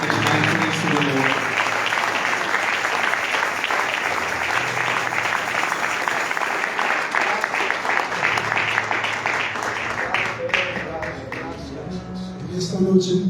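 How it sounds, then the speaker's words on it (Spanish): Congregation applauding the Lord during a bilingual church service, a sustained, even roar of clapping from a crowd filling most of the stretch, with a voice speaking over it as it fades near the end. "Si le puede dar un aplauso a nuestro Señor."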